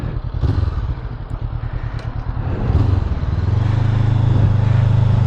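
A Honda CB500 motorcycle rides on the road, its engine droning loud and close with a rough, pulsing tone that swells and steadies as it pulls along, joined by wind and road clatter.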